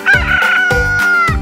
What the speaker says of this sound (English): it's just a rooster